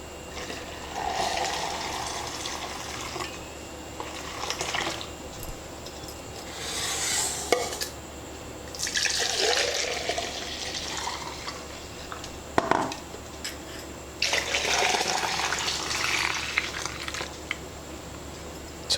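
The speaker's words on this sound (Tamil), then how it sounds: "தண்ணி விடுவோம்." Water is poured into neem flower buttermilk in several separate splashing bursts of liquid filling a vessel, each a few seconds long, with quiet gaps between them and no talk.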